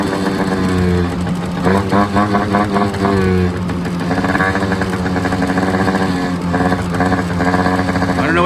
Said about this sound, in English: just listen to how I had to feather the throttle